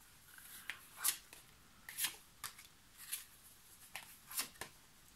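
Tarot cards being shuffled and laid out on a table, with a series of soft, crisp riffles and flicks repeating roughly once a second, close and quiet with no talking.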